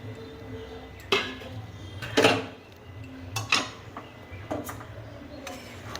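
Fruit such as apple, pomegranate seeds and halved grapes being mixed into Kashmiri pulao in a pot, with a few scattered clinks and scrapes of a spoon against the pot over a low background hum.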